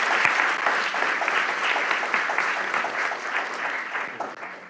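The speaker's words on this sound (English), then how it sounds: "Let's give her a round of applause." Sustained audience applause at a CSUSB leadership event, a dense, even wash of many hands clapping at steady loudness for several seconds, fading slightly at the end.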